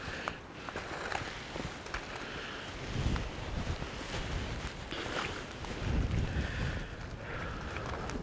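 Gusty wind buffets an outdoor cooking fire heating chicken wings, a steady broadband rush with louder surges and occasional faint knocks and crackles.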